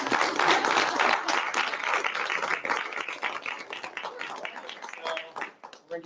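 Audience applauding at a graduation ceremony, a dense steady wash of many hands clapping that holds for about six seconds before thinning out near the end, with no speech over it.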